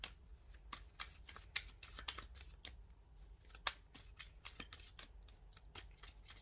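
Tarot cards are shuffled repeatedly by hand at close range, a quiet, irregular series of crisp riffling snaps and slaps with no talking.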